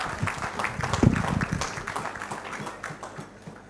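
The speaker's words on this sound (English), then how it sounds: "Let's give him a round of applause again." A banquet audience applauds at an anniversary awards dinner, a dense burst of clapping that peaks early and then slowly thins out, with some murmured voices underneath.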